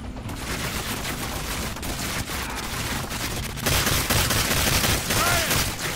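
Dense, continuous gunfire and explosions from weapons in the video game Evolve, loud and sustained throughout with a rolling barrage quality.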